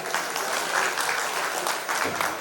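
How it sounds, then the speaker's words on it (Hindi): A school annual-function audience applauds steadily, a dense, even wash of many hands clapping close and loud for the whole stretch, with no voices on top. "एक बार जोरदार तालियां ज्योति डबराल नाम के लिए।"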